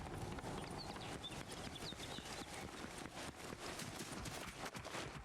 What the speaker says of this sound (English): yeah, I heard the footsteps there.